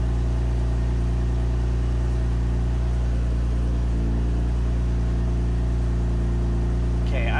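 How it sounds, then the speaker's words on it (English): A loud, steady engine idles in a supercharged BMW E46 just after starting, with a deep constant rumble and hum, continuous throughout, with a brief faint higher whine near the end. "I'm not sure how much you guys can hear me because the car's really loud"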